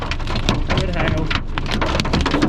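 Hail and heavy rain pelting down during a severe storm in South East Queensland, a dense continuous clatter of impacts filling the scene, loud and close throughout, with music playing faintly underneath.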